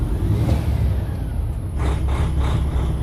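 A Peterbilt 579 truck engine after a cold start hums steadily nearby, with a few brief throttle blips rising and falling near the end.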